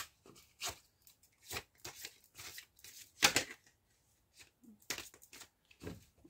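Tarot cards being cut and handled, a series of short papery slaps and rustles in an irregular rhythm, close and fairly quiet with brief pauses between.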